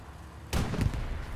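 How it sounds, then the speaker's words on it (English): Artillery shells landing in a World War II style online multiplayer game, a sudden heavy boom followed by rumbling blasts and debris at mid distance, with no talk. "The artillery is coming on, is landing where the concentration was"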